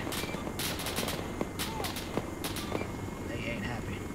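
Bursts of rifle and machine-gun fire ring out during 69th Infantry Division military unit training, a scatter of sharp cracks and short volleys that are fairly distant and sit over steady outdoor background noise.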